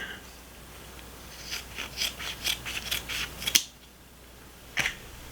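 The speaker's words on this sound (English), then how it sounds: "Here are the scissors cutting different materials." A series of quick snipping cuts from the spring-loaded scissors of a Flissa multitool slicing through seatbelt material, a brisk run of clicks followed by a pause and one final snip.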